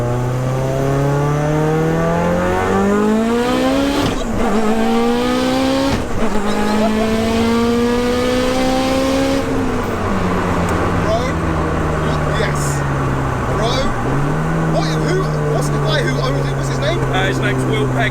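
A 900bhp 2.0-litre Mitsubishi Evo 8 pulls hard on boost in second gear, its loud engine note climbing steadily in pitch, dipping briefly at a shift-like break, then rising again while people talk over it inside the car.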